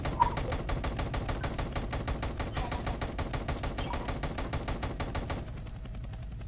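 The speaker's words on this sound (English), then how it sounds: "I'm shooting it. I'm shooting its bald head." Rapid, steady automatic gunfire from a weapon firing at a monster in an SCP horror video game, a continuous loud burst lasting several seconds before cutting off to quiet room tone.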